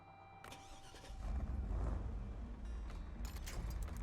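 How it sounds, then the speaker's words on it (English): In SnowRunner an ANK Mark 38 truck engine cranks and catches, swelling into a low rumbling idle. Clicks and clunks from the game sound around it. "Oh, I gotta start my engine."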